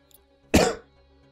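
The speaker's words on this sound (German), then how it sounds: "Irgendwann werde ich sterben durch den Husten." A single harsh cough from a man, close and loud, a sharp burst that fades within a quarter second against quiet background music.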